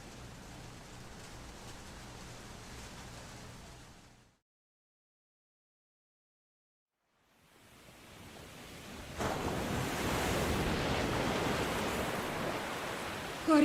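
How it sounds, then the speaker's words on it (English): Ocean waves in the video game The Flower Collectors, a steady surf wash that drops into silence for a few seconds, then swells back louder and fuller, with no voices. "the waves. Do something."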